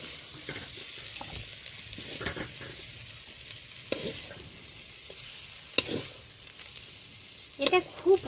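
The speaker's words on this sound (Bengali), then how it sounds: "পেঁয়াজ, রসুন আর চিংড়ি মাছ বেশ ভাজা ভাজা হয়ে গেছে" Onion, garlic and shrimp fry in a wok with a soft, steady sizzle, broken by a few louder scrapes and stirring clatters near the end.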